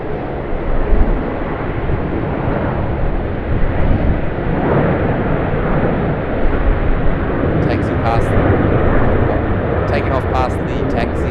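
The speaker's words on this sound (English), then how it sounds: "Taking off past the taxiing rig 737" A Qantas Boeing 737-800 takes off at Sydney Airport, a loud sustained broadband jet roar with wind buffeting the microphone, steady throughout with a few faint chirps near the end.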